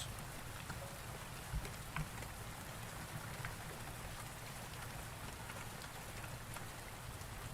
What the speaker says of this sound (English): And to top it off, this rain.